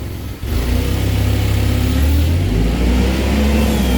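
A Nissan 180SX engine running loud and close, holding a steady, rough, throbbing rev after a brief dip near the start.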